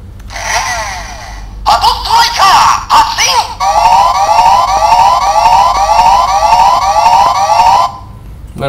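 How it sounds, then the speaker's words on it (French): An electronic toy siren from a DX Patstriker toy in Gokaiger mode wails loudly in repeating rising sweeps, preceded by short bursts of tinny electronic sound and speech, then cuts off abruptly. "ensuite le bruit de la sirène"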